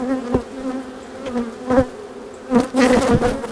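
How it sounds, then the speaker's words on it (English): Honeybees from a transferred swarm buzz loudly around a hive close by, a dense steady hum with bees passing near in a few louder swells. "there are a lot of bees"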